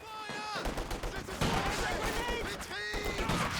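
Rapid gunfire from infantry squads trading shots in a Company of Heroes 2 match, Soviet Guards against German Grenadiers, bursts of rifle and machine-gun fire crackling continuously over game effects while a commentator talks throughout.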